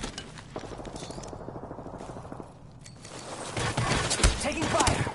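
Gunfire in a video game comes in quick bursts of rattling shots that build louder toward the end, with game speech running underneath.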